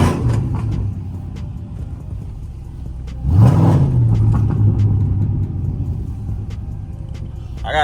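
A Chrysler 300C with an exhaust leak idles with a low rumble, then revs sharply in a rising, throaty surge before settling back to a steady drone, close and loud.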